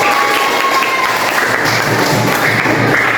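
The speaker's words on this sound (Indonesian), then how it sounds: "Beri aplaus dulu untuk Yasin." Audience applause in a classroom setting, a dense, loud burst of clapping that carries on steadily for about three seconds.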